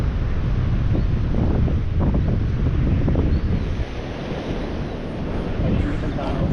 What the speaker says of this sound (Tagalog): Tahimik ang tao dahil maingay ang alon.